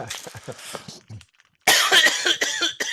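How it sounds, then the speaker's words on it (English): A man coughs during a tabletop gaming podcast, with muffled rough bursts first, then a pause and a sudden run of loud, harsh close coughs near the microphone. "I know because I'm coughing"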